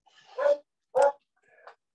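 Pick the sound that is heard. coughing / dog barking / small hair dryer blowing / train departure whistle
dog barking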